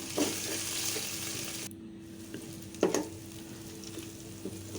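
Cumin powder and onion masala fry in a pan for a beef rezala, a low steady sizzle broken by occasional spoon scrapes and clinks, with no talk.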